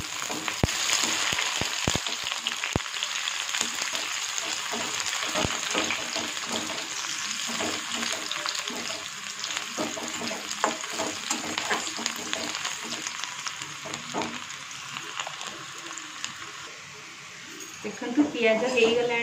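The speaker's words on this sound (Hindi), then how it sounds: "पियाज पकेदबा" Onions frying in a pan give a continuous crackling sizzle with sharp pops and clicks, and a person talks over it throughout.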